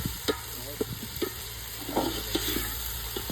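Chopped tomatoes are stirred into the pan of fried ingredients for chicken dum biryani, giving a steady close sizzle under repeated spoon scrapes and soft stirring knocks, with a constant low hum behind.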